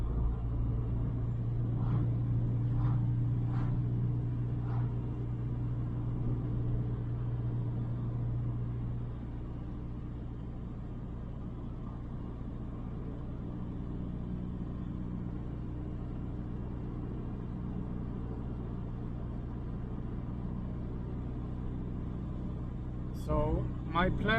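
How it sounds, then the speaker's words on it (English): A Saab 9-5 Aero, converted to rear-wheel drive, cruises with a steady low engine drone and road rumble from inside the cabin, the turbo spool blending into the hum, with a few faint clicks and knocks. "And the turbo spool is so good."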